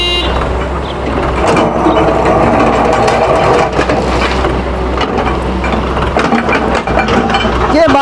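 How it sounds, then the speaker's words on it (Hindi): A crane lifts road debris during construction of a sugar mill road near a village, a loud, steady engine rumble with mechanical clanks and rattles throughout, no talk. "ये आप देख सकते हैं क्रेन इस वक्त अपना रोड का जो मलबा है वो उठा रही है।"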